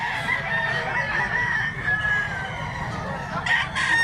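A black leg fighting rooster crows, its drawn-out call rising over a quiet outdoor background, with faint bird and fowl sounds nearby.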